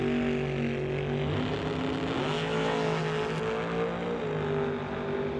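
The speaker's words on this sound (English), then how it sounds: "we'll see that little roadster shoot out off the start line first" A small roadster drag racer launches off the start line at a divisional drag race, a steady, loud engine drone with a slight rise in pitch and no talk over it.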